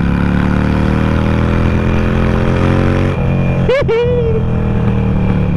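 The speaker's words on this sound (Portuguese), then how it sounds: "Vambora, acelera, acelera, Harley" A Harley-Davidson motorcycle rumbles close by, a loud, steady low engine note, with a short sharp squeal partway through and a voice cutting in briefly.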